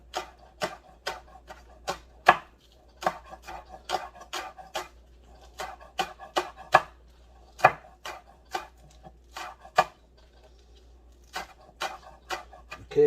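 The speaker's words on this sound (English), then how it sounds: "And now just thinly slicing some green onion." A knife thinly slices green onion on a cutting board, giving a long series of close, crisp chops at a steady but slightly uneven pace, with short pauses between runs.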